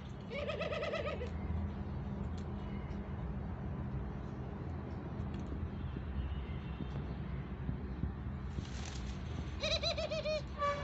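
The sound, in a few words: pet doves cooing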